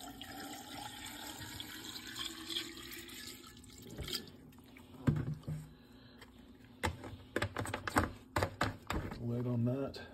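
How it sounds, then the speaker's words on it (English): Hydrochloric acid is poured over e-waste in a container, giving a steady liquid pour and splash that gives way to clattering, uneven sloshing and handling noises, with a voice briefly audible. "So we're going to cover this with some hydrochloric acid."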